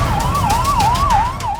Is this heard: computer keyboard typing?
no